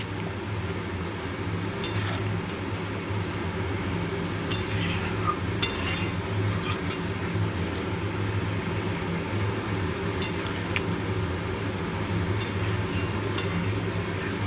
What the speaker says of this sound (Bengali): দিয়ে ভালো করে নাড়তে হবে।